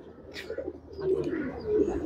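Champion tournament racing pigeon cooing softly and close, a low throaty coo rising and falling in quiet surroundings.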